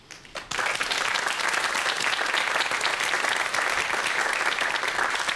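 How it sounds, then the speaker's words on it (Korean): Audience applause welcoming a lecturer at a televised talk on the biology of romance novels, a short scattered clap followed by dense, sustained clapping from a large crowd, loud and even throughout. "그럼 큰 박수와 함께 강연 청해 듣도록 하겠습니다"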